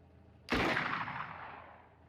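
A single gunshot fires in the Xenonauts-2 strategy game, a sharp close blast followed by a long decaying tail of rumble and reverb, with no talk over it.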